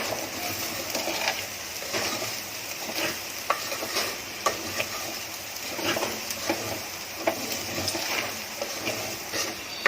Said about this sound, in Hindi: इसमें हल्दी डाल रही हूँ पाव चाय की चम्मच, और 1 मिनट उसको भून रही हूँ।